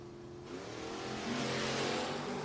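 Drag race cars launching side by side, a Shellcross Nova against a 1968 Camaro, in a no-box 660 shootout: a loud, rising engine roar that swells and builds steadily, with no voices over it.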